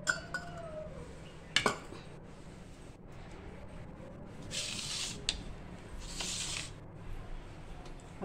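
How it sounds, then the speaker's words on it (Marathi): Paneer frying in ghee in a pan while cooking kaju paneer masala: a soft hiss and sizzle rises in two short bursts, with a few light clinks of utensils, quiet and close, with no talking. "आता हे पनीर आपण चांगलं ह्या तुपामध्ये परतून घेणार आहे"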